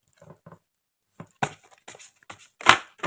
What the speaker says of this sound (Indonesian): ini Kartunya segede karpet, jadi susah mengocok